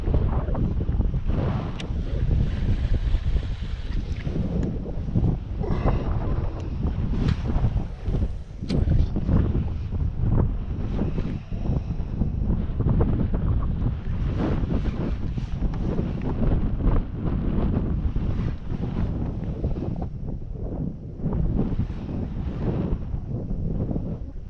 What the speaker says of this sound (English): It's pretty windy out here too, by the way.